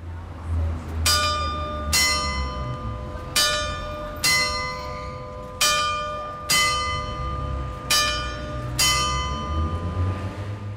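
A church bell at Holy Rood Church, Southampton, struck by quarter jacks, worn through with a hole, rings out eight clear metallic strokes about a second apart, each leaving a bright shimmering decay over a low rumbling background.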